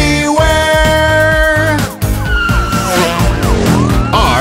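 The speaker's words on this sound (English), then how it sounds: "Vroom, vroom, police car!" A police car siren wails in rising and falling sweeps for a children's cartoon song, loud and up front, mixed with music and an engine rev.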